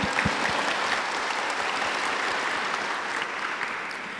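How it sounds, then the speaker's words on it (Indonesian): Graduation ceremony crowd at a university in Berastagi clapping for the university, a full sustained burst of applause with a few sharper claps near the start, steady and fairly loud. "Tepuk tangan sekali lagi untuk universitas kita."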